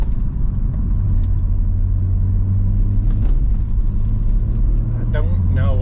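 A car pulls hard under steady acceleration, its engine a continuous low rumble that holds loud and close throughout.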